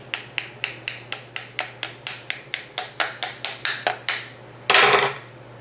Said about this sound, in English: the only thing I'm going to do is just tap the pin into place.